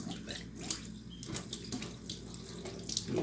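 Tap water runs steadily into a tube in a kitchen-style sink setting, a continuous splashing hiss with small bubbling bursts, close and moderately loud, with no voices.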